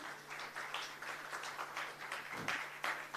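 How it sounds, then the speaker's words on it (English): A conference audience claps steadily, a soft patter of many hands at moderate distance, sustained without pause. "Give it a huge round of applause"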